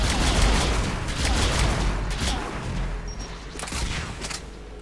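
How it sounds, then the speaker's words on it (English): Rapid gunfire from the ADAS rifle in Mass Effect 3, fired around cover in a sci-fi shooter battle, comes as a dense, loud, continuous burst of shots that barely lets up, with other combat noise mixed in. "what I'm actually doing is shooting around cover"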